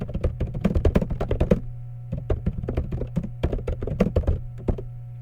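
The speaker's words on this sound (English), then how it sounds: "I just wanted to kind of give you that feel of what it would be like typing on the system" Keys clatter on a computer keyboard at a Linux Mint desktop in quick uneven bursts of taps, broken by one brief pause, over a low steady electrical hum, with no voices.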